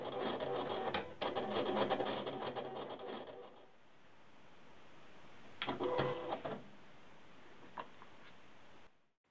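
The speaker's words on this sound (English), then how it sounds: "And you can possibly hear the Cameo begin to cut." A Silhouette Cameo cutting machine cuts garment vinyl with faint, low whirring and clattering motor bursts, separated by quieter stretches of soft hiss and a few sharp ticks.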